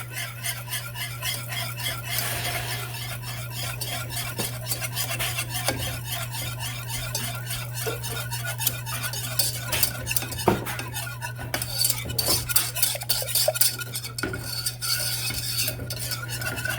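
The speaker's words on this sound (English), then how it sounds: "So get this milk mixed." Milk being stirred into a Texas sheet cake mixture in a metal pot, with a utensil scraping and clinking rhythmically against the sides, close and continuous over a steady low hum.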